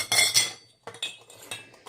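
Miniature steel bowls and lids from a toy kitchen set clink together in a few quick bursts of bright metallic chinks, close and fairly clear, separated by brief silent gaps.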